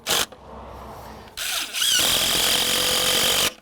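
A power drill drives screws at an angle into a wooden deck railing, whirring loudly and close in two bursts, the second one longer and straining as the screw seats, with no talking.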